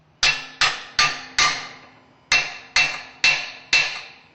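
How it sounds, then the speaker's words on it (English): Quick hammer blows strike a metal strap and nut while a Grundfos 385S or 475S pump is being assembled, ringing out as two sharp, evenly spaced sets of four clanging hits with a brief pause between them. "we're going to straighten that out by giving it a few quick blows and leveling or evening off the surface area of your nut and the strap"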